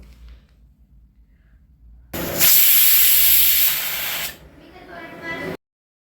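Steam hisses loudly from rajma simmering in a lidded pot over medium heat for about two seconds, then eases into a softer, quieter hiss before stopping.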